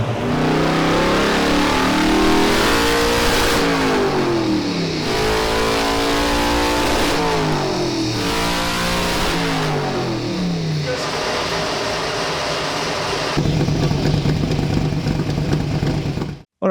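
A powerful tuned car engine, very lean and coughing, revs hard and accelerates in long rising sweeps on a 360-kilowatt run, loud and close throughout, with no talking.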